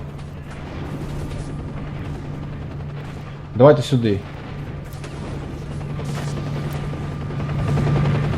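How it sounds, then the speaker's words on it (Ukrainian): Gunfire in S.T.A.L.K.E.R.: Shadow of Chernobyl: a short burst of shots around the middle, loud against a steady ambient game hum, with someone speaking briefly in between. "Блять, та хто там стріляє?"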